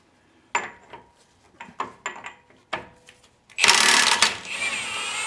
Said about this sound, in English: So I'm starting with a 32 millimeter socket and my amazing Milwaukee 1/2 inch impact wrench.